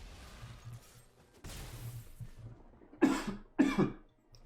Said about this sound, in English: please excuse my cough.